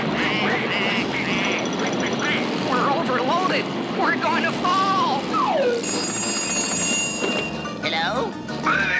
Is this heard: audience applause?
no